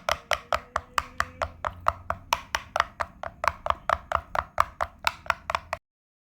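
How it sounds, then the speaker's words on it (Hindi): An egg is mixed into a potato cutlet mixture with a quick, even run of about twenty crisp taps against the bowl. The taps are close, steady and unbroken for six seconds, with no talk. "अंडा इसमें मिक्स कर लेते हैं।"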